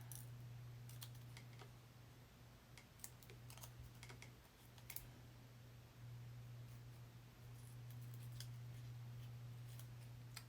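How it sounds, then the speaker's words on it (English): Scissors fussy-cut a printed paper image for a junk journal, with a quiet series of close, crisp snips and slicing strokes in irregular bursts over a faint steady hum. "I'm going to fussy cut him out and add him to the front of this little house."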